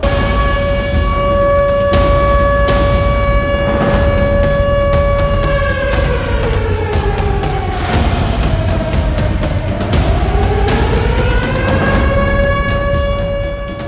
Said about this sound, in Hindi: परमाणु युद्धाभ्यास के दौरान पूरे रूस में सायरन बजे